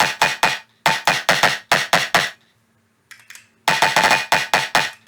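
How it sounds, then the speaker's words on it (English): Tearout bass sound processed with a Corpus resonator effect, adding glassy metallic ring-outs to the high end; loud rhythmic bursts of clanging, hammer-like hits in quick groups, a short pause with faint sparkle, then another dense run. "I used a corpus which will give our high end some metallic ring outs"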